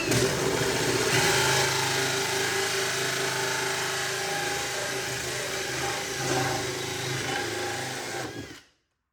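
A loud, continuous whirring drill runs steadily at close range for several seconds, then stops abruptly.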